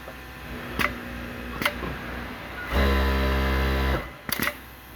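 A Yamato flatlock sewing machine turned over by hand, with a couple of sharp mechanical clicks followed by a short, steady whirring burst of about a second, then a few more close clicks.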